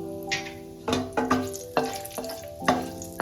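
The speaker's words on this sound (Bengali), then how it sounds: "30 সেকেন্ডস মতন মশলাগুলোকে আমি ফ্রাই করে নেব।" Whole garam masala spices fry in butter in a pan, a soft sizzle running underneath while a spoon stirs and scrapes in five or six sharp, irregular strokes.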